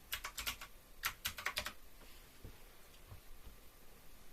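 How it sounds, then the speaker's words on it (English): Computer keyboard keys tapped in two quick clusters as a password is entered, crisp close clicks that give way to faint low handling noise. "type in password."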